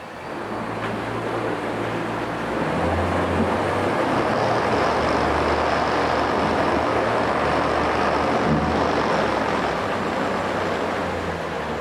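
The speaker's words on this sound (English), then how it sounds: "That sound is a vibration of the tank." A 2015 Mercury 60hp 20-inch four-stroke outboard motor runs steadily in gear with a low droning hum, its fuel tank buzzing and vibrating throughout, plus broad wash-like noise from the water.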